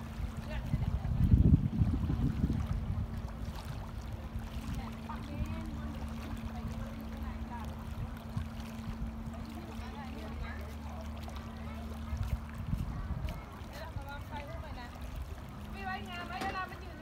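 Navy patrol boat number 412 on the water, a steady low engine drone running under the sound of water for most of the stretch, with a few louder bumps and people talking nearby.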